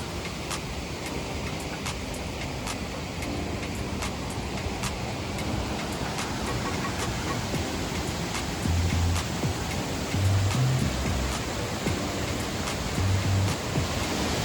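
Dense, constant roar of the Pancada Grande waterfall in Bahia, Brazil, heard from above, fills the scene, a broad steady wash of white noise with no pauses.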